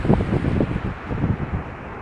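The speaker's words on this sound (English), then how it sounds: "It's very windy here" Gusting wind buffets the microphone with a low, rumbling roar that rises and eases, with no voices.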